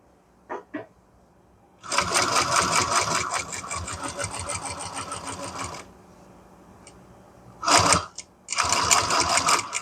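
A sewing machine stitches a MOLLE pouch. A couple of faint taps come first, then a long steady run of rapid stitching, a pause, and two more close bursts of machine stitching.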